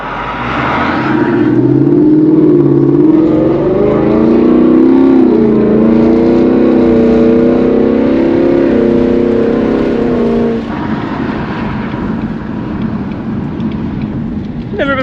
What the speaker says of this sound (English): That Corvette had a little bit of a chop to it.